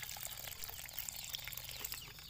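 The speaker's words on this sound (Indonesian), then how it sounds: "Selanjutnya kita siram jenuh supaya tanah tersusun kembali dengan benar." Water is poured onto soil in a plant polybag, soaking it after a rooted air-layered cutting is transplanted; a soft continuous trickle and patter, fairly quiet, with no talking.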